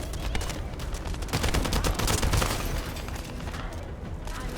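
Sustained automatic gunfire in the video game The First Descendant, dense and loud, with rapid overlapping shots that swell in the middle and taper off near the end.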